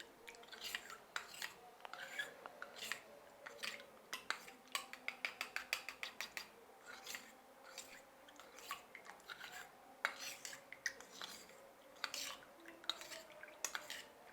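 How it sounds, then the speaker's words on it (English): A spoon stirs a mixture in a bowl for royal icing, mixing so it dissolves before it goes into icing sugar. It makes quiet, irregular clinks and scrapes against the bowl, with bursts of rapid tapping over about fourteen seconds. "we need to give it a good mix to ensure that it's well dissolved"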